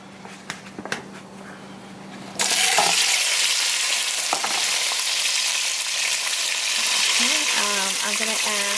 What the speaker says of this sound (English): I went ahead and placed some oil at the bottom of my pan, and it should be hot, so let me go ahead and put the tomatoes in.